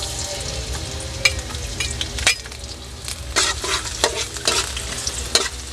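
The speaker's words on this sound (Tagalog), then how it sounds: "Gigisahin ko na po yung bawang mga ka-subscriber." Garlic sautéing in a pan for a chicken liver dish, a steady close sizzle running throughout with intermittent scraping clinks of a utensil stirring against the pan.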